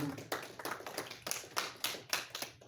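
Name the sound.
congregation applauding in church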